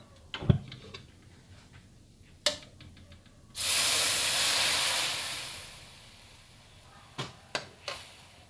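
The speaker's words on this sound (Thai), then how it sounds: "ตั้งกระทะแล้วเดี๋ยวเรามาลวนน้ำพริกกันนะครับ" Thai panang curry paste hits a hot pan with a sudden loud sizzle that hisses steadily before slowly fading, with scattered clicks and taps before and after.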